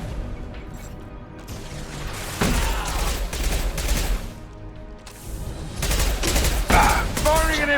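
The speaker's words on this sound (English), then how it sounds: "Firing an impact shot!" Rapid bursts of sci-fi weapon fire in a Mass Effect 2 firefight, dense and loud, overlapping with shouted combat voices and impact booms throughout.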